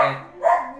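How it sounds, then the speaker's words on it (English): Dogs bark close by, two quick barks in under a second, loud and alone with no talk over them. "Sorry about the dogs."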